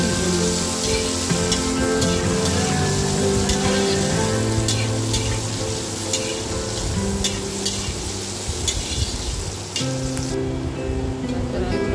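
Capsicum, green peas and mixed vegetables fry in a hot pan for fried rice, a steady loud sizzle with crackling and stirring, no talking.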